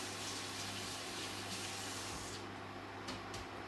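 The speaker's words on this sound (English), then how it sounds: "give this a quick little rinse under cold running water" Cold tap water runs steadily as food is rinsed under it in a kitchen, a continuous close hiss of flowing water with a few brief splashy bursts near the end.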